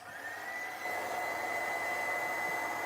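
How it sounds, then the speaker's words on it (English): A heat gun blows steadily as it dries a mixed-media craft project, a close, even whirring hiss with a high whine that rises slightly in level and then holds constant. "dry it a bit with the heat gun"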